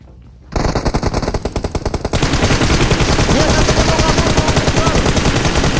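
Automatic machine gun fire in the battle royale game PUBG Mobile: loud, rapid bursts of shots begin after a brief quiet moment and then run almost unbroken to the end, growing denser partway through.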